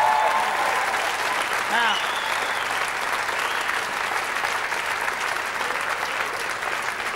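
A studio audience at a television music show breaks into sustained, dense applause, steady and loud throughout, with someone speaking briefly at the start.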